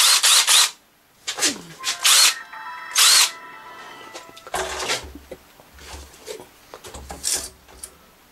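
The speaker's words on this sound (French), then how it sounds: "J'ai une visseuse à choc." A battery impact driver fires in several short, loud, close whirring bursts, followed by quieter handling clicks and rattles between brief pauses.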